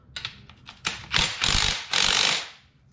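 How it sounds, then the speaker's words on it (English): A strut compressor tool releases a car strut spring with a few quick ratcheting clicks, then two longer grinding mechanical bursts, close and fairly loud, with no talk. "And decompress this strut. It's not that bad with this tool."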